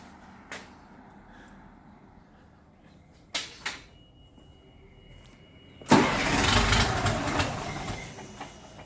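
Cat 3116 diesel engine in an LMTV truck cranking with air still in the fuel system, failing to catch: a few short mechanical bursts, then a loud sustained grinding crank near the end, with no talking.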